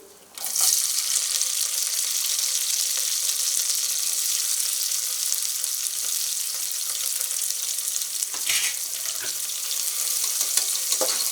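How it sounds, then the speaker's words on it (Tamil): Steady, loud sizzling of onions sautéing in a pan for vegetable biryani, continuous hiss with a few stirring clatters near the end. "இது நல்லா வதக்கிக்கோங்க."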